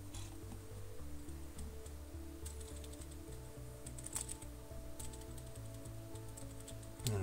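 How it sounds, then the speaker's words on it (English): Steady clicking from a loud computer keyboard being typed on, with fast, even keystrokes carried over a low background hum near the microphone. "My keyboard is too loud."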